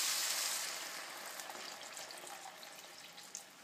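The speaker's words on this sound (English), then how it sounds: "So we have vegetable stock we're just going to pour in." Homemade vegetable stock is poured into a pan over high heat while making bouillabaisse. It gives a close, hissing gush of liquid that starts strong and tapers off over a few seconds.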